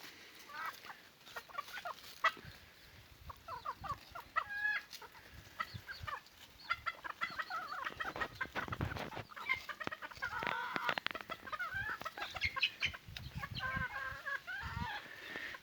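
İspenç hens cluck steadily throughout, several birds close by with overlapping calls and occasional louder squawks, over faint outdoor background.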